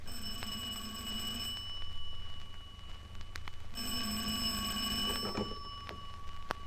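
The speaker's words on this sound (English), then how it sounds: "Pondering on it when the phone rang." A telephone rings in two long electronic bursts separated by a short pause, loud and close, with no voices.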